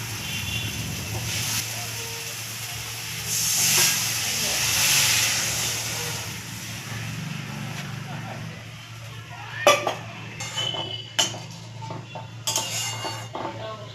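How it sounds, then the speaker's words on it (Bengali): Water poured into a frying, oil-separated spice paste for a fish-roe curry, giving a broad hiss and steam sizzle that swells mid-clip, with pan and utensil clinks later and talk throughout. "এবার আমি জল দিয়ে দেবো।"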